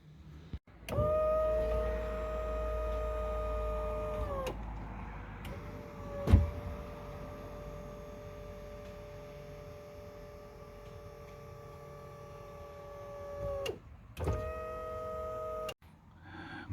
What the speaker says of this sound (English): Let's also do steering with the autopilot.